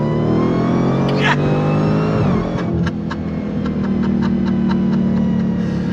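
A 2023 Dodge Challenger Demon 170 with an 8-speed automatic accelerates hard, its engine roaring loudly and continuously with a pitch sweep as it shifts, heard from inside the car.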